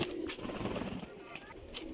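A batch of high-quality flying pigeons gives soft, low cooing against a steady background murmur, fairly faint and continuous for the whole stretch.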